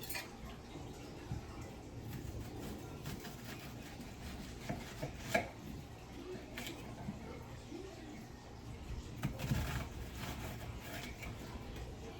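Knife chopping scallion and onion on a cutting board for a meat-free supper of ground provisions, a steady run of soft close taps with a few sharper hits, over faint room noise and a little water sound.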